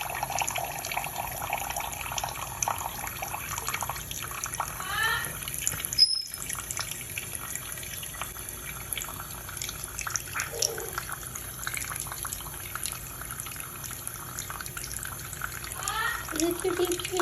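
A kitchen sink tap runs steadily while a macaw takes a bath in the basin, with occasional splashes, and someone talks over the flowing water.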